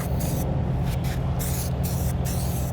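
An aerosol spray can hisses in several bursts during work on a Honda Pilot, each spray a steady close hiss separated by brief pauses over a low background hum.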